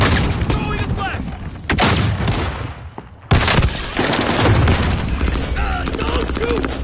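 A flashbang grenade thrown during a Call of Duty Warzone match goes off amid loud, close bursts of rapid gunfire and heavy booms, with a player's voice shouting over the chaos.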